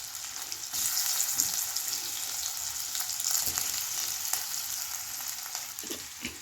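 Potatoes with turmeric fry in a hot pan, a strong even sizzle that swells as they go in, with occasional stirring scrapes and no talking.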